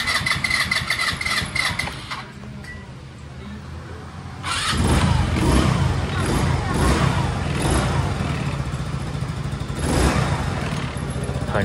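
A Haojue 125 motorcycle engine, freshly overhauled, is cranked and catches midway, settling into a steady, fairly loud idle with exhaust burble. Some talk comes before it.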